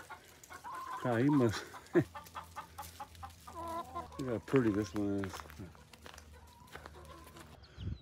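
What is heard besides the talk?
chickens clucking in a chicken yard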